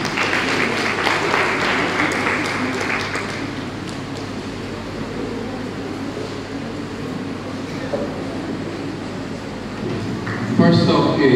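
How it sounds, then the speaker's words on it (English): Applause from the audience at a university bursary week public lecture, a steady wash of clapping lasting several seconds over a low background hum, with a brief louder burst near the end. "Please, a round of applause for her."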